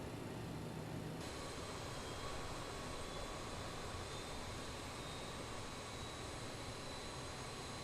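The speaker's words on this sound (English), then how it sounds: "Engine 2 start." A BAe 146-300 jet engine starts up in Microsoft Flight Simulator: a steady, dense roar that gains a thin rising whine partway through and holds continuously, with no voices.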